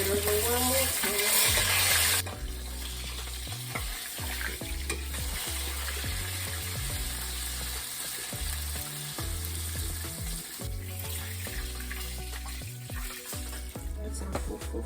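Ugali, a stiff maize-flour porridge, being cooked and stirred in a pot for an African family dinner, giving a steady close sizzling and scraping with rhythmic stirring throughout, louder in the first couple of seconds.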